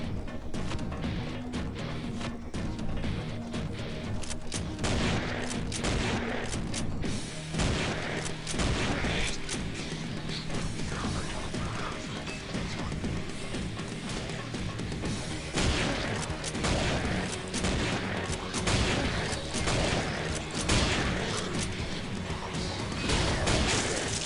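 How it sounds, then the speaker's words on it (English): Grenades detonate in the video game Killing Floor (KFMod 2.5) among dense, continuous gunfire, booms and crashes of intense combat lasting over twenty seconds, loud throughout. "that vomit does detonate the grenades"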